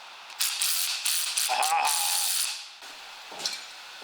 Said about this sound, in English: little 3/8 snap-on wrench